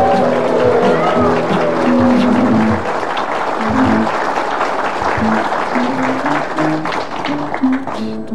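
A studio audience at a television talk show breaks into loud, sustained applause, dense clapping that swells and lingers with a voice talking over it.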